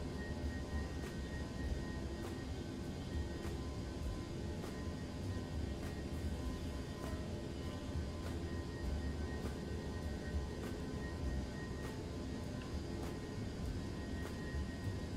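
A steady, loud roar from the jet engines of an Airbus A321 climbing after departure from El Paso in the X-Plane 11 simulator, a continuous droning whine with no talking.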